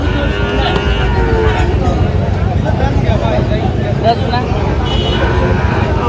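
Shahiwal bull calves and other cattle at a busy livestock market in Comilla, with loud constant crowd chatter over the livestock sounds and occasional faint animal calls nearby.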